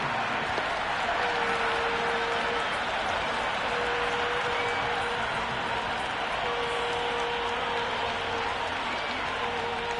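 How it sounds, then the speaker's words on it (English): An IPL cricket match crowd applauding and cheering in a stadium, a steady, dense wash of clapping and crowd noise holding throughout at a constant level, with faint voices beneath it. "The crowd are loving every minute of this match."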